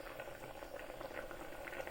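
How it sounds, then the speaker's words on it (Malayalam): A pot of Kerala kadachakka (breadfruit) curry bubbles on the stove, a faint, steady simmering burble of thick liquid close by with no talk. "അപ്പോൾ കറി നമ്മൾ നന്നായിട്ട് തിളച്ചുകൊണ്ടിരിക്കുകയാണ്."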